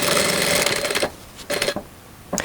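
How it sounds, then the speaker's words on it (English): A sewing machine stitches a linen seam for a summer dress, a fast buzzing whir running for about a second, then two short bursts after brief pauses, close and loud with no talking. "I'm sewing 2-3 millimeters parallel to this line."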